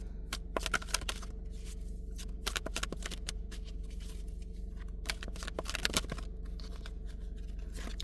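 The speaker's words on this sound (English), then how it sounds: "Let me grab the rest of the cards." Tarot cards are shuffled and handled close up in quiet, giving repeated crisp riffles and soft papery flicks in irregular bursts.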